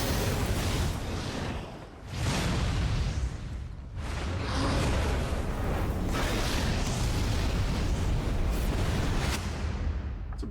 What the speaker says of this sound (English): It's a bit of an explosion.